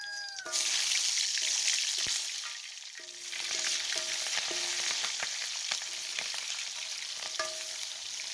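Onions, jalapeño and kangaroo meat frying in leftover bacon grease, a steady sizzling hiss broken by a few scraping stirs and clinks of a utensil against the pan.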